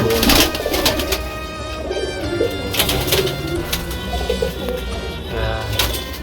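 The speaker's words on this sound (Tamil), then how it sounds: "நம்ம பாயை புறா பார்க்க வந்திருக்கோம்" Pigeons cooing at a pigeon keeper's home, soft repeated throaty coos and some chirps from several birds close by, continuous over a busy background, with occasional faint voices.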